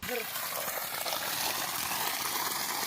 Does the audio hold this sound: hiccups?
no